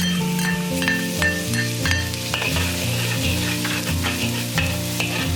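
Garlic sizzles and crackles in hot oil, with occasional stirring scrapes, steady and close up.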